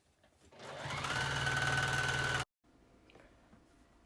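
An electric sewing machine stitches down the pleats of a fabric face mask in one steady, fast whirring run of under two seconds, close and clear, then stops abruptly with quiet handling noise afterward.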